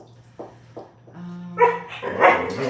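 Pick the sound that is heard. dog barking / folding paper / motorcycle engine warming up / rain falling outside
dog barking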